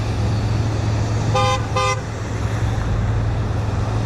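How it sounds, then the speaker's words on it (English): Two short car horn honks, one right after the other, sound from passing traffic at a roadside protest over a steady low road rumble. "I can't even talk to so many honks"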